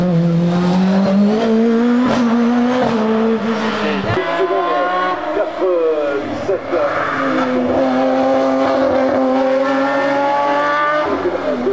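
A hill climb race car engine roars continuously at high revs at the Limonest hill climb, its pitch rising and dropping through gear changes, loud and close throughout.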